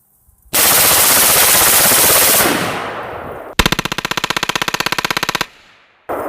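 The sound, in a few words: AR-15 rifle firing with modified LARB buffer bumper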